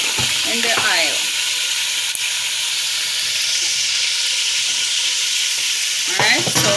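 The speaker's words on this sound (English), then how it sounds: "now I'm gonna add in the garlic and the oil" Garlic hitting hot oil in a pan, a loud, close, continuous sizzle and hiss that flares up at the start and again near the end, with faint stirring sounds.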